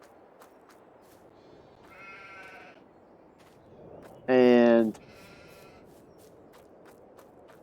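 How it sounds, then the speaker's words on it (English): Sheep in a pen holding eighteen animals bleat twice in quick succession, the second call loud, wavering and close, while someone talks quietly over the farmyard background. "We have 18 sheep in this pen,"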